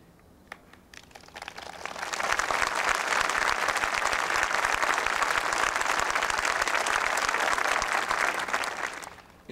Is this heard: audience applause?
yes